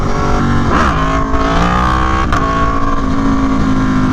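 An Aprilia Tuono V4 Factory motorcycle engine revs up hard and close, its pitch climbing as the throttle opens after the front wheel comes off the ground.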